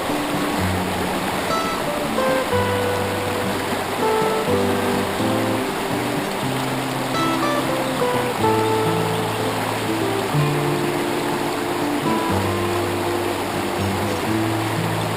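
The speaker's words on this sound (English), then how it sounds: "this water, so clear, so cold, so fast flowing, ends up in the Murray" Clear, cold, fast-flowing river water in Northeast Victoria rushes steadily and loudly, a constant close wash of flowing current with no break.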